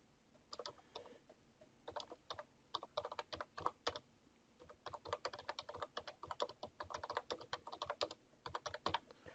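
Quiet typing on a computer keyboard, bursts of rapid clicking keystrokes with a short pause in the middle, close and alone with no talk.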